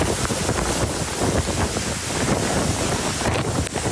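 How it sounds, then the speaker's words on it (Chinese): Strong typhoon wind and driving rain lash Green Island's Nanliao area, a loud, continuous roar of gusting wind buffeting the microphone with broadband hiss throughout, no voices. "绿岛南寮的风好急，雨根本是用扫的，没有固定住的物品全部吹飞。"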